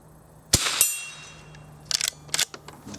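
A vintage Marlin 39A fires .22 short rounds at a steel plate: a sharp crack followed by a ringing clang, then a quick cluster of several more shots and pings, moderately loud.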